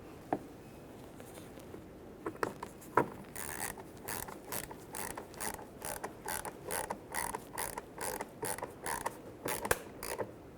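A screwdriver drives a T10 screw into the plastic mirror housing of a 2002-2009 Chevrolet Trailblazer. It gives a quiet run of ratcheting clicks and creaks, close up, in a fairly even rhythm after a few scattered knocks.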